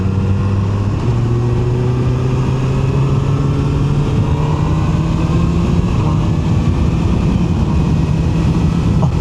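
QJMotor SRK 921 RR motorcycle engine after dropping a couple of gears, a loud sustained drone with pitch slowly climbing as it pulls, steady and close without talk.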